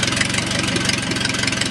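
A Les Smoot 4A084 aircraft engine runs at low idle around 600 RPM, a loud, steady, rapidly pulsing chug with a rough mechanical rattle held throughout.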